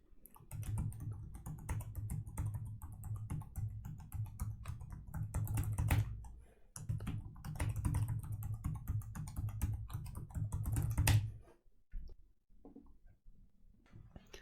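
Continuous clattering keystrokes on a ThinkPad T480s laptop keyboard as an encryption passphrase is entered, dense and close, with a brief pause near six seconds and a stop near twelve seconds, followed by quiet.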